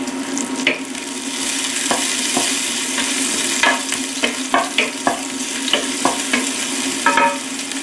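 Garlic chives stir-frying with ginger and garlic in a hot pan give a loud, steady sizzle, with irregular scraping taps from the spatula growing more frequent toward the end; close up and without speech.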